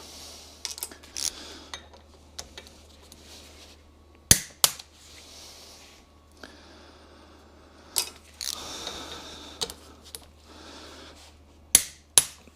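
A wrench torquing the many bolts around a Mercedes E55 AMG differential during a rebuild, with sparse, sharp metallic clicks and clanks separated by quiet gaps.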